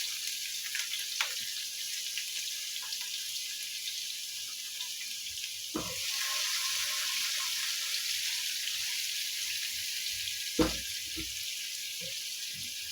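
Half an onion and two garlic cloves sauté gently in about four tablespoons of oil, a steady soft sizzle with a louder surge midway and a few scattered clinks and knocks, close and with no talking.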